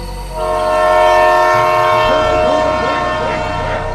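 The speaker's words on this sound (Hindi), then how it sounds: "इंजन ने हॉर्न बजाया।" A loud, sustained train horn blares with rich layered tones, followed by faint rhythmic rattling of rail cars.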